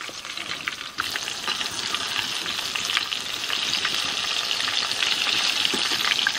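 Mixed vegetable pakoras frying in hot oil over a medium flame, a loud steady sizzle and bubbling that jumps up as the batter drops in and then holds close and continuous, without voices.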